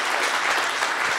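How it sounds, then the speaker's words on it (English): A church congregation bursts into dense, continuous applause, with many hands clapping together at close range. "let's give a round of applause to anybody who prayed that in person or online"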